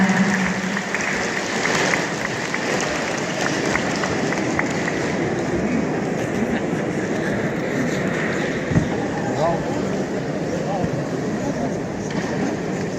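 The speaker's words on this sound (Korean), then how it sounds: "여러분 박수 한번 부탁드리겠습니다" Sustained crowd applause at a ceremony honoring families of national merit recipients, a dense, steady wash of clapping that stays loud and even for the whole stretch, with no clear voices above it.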